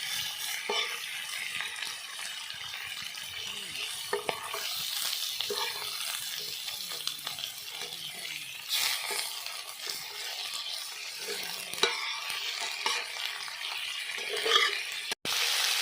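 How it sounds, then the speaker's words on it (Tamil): Quail pieces sizzling steadily in a pan for a village-style pepper fry, with scraping stirs and occasional clacks of the utensil over continuous close frying hiss. "அப்படியே கலர் மாறணுன்னே காடையை அப்படியே பரட்டி விட்டுட்டு வருவோம்."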